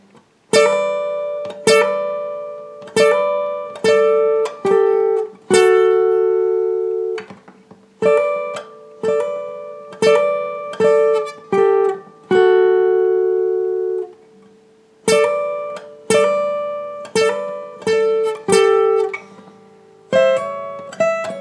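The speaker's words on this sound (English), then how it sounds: "Play that lead guitar part over the chorus very slowly." An electric guitar slowly plays the lead part over the chorus of a song. Single plucked notes and short phrases ring out, with a few longer sustained notes and brief pauses between groups.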